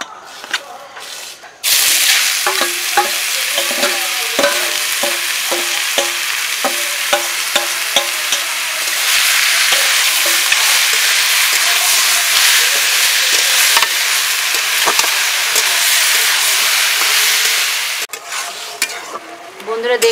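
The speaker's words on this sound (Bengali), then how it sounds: "ভালো করে আমি লাউটা ভেজে নেব" Bottle gourd fries in ghee in a wok with a loud, steady sizzle, broken by repeated stirring scrapes and clinks for about twenty seconds, after a brief quiet opening and with a short lull near the end.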